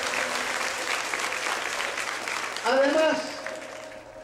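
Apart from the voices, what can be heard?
audience applause at ceremony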